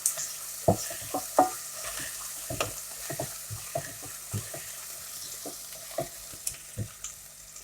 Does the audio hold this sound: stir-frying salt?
yes